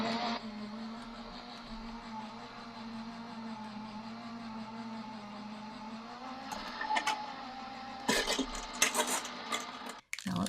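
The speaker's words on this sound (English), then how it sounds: "I'm going to pop this here and I will run this through my die cut machine." An electric die cut machine runs a panel of heavy white cardstock through its rollers, a steady mechanical whir and hum holding for several seconds, with a few louder clicks and rattles near the end.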